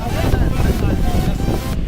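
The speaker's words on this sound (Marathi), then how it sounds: "समुद्राची एकदम खतरनाक वारा आहे" Strong wind buffets the microphone in a loud, continuous roar with gusty surges, suggesting open sea air.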